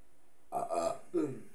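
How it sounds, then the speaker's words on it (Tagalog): A single voiced burp, short and close, comes in two quick gulping bursts during a quiet study session. "Burp."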